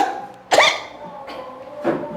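A man coughs sharply once during a sermon, a strong burst followed by two weaker throaty bursts spaced about a second apart, close to the microphone in a reverberant hall.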